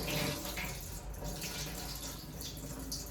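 A tap runs steadily while toor dal is washed, a close, continuous rush of water with faint splashing. No one talks.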